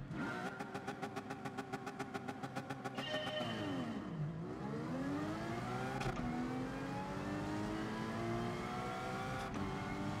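A race car engine in Gran Turismo Sport blips rapidly in a quick, even run of revs, then sweeps down and climbs back up into a sustained, rising wail, loud and close.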